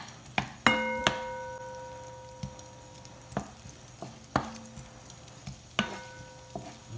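Onion and garlic sauté in a pan for a sardine dish, under a soft, steady sizzle. A metal utensil strikes the pan with sharp, ringing clinks at irregular intervals.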